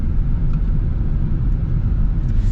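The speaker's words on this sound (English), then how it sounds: "You hear a little bit of tire noise." Steady low road roar of tires rolling on pavement, continuous and muted as heard from inside the thick-glassed cabin of a 2026 Genesis G70 3.3T.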